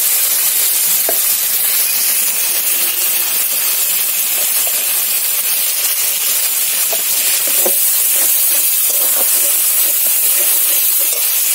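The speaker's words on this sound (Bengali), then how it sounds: "এইভাবে নাড়তে নাড়তে টমেটোটা আমার ভাজা হয়ে গেছে" Tomatoes sizzle steadily in a hot pan with turmeric while being stirred, a continuous bright frying hiss broken by occasional soft clicks of the spoon, close and fairly loud with no talk.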